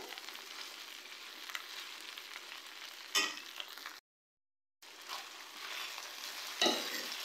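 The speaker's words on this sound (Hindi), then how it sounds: "अब हम भिंडियों को अच्छी तरह से फ्राई करेंगे।" Okra (bhindi) fries in a pan with a continuous close sizzle and occasional stirring scrapes, briefly cut to silence midway, with no talking.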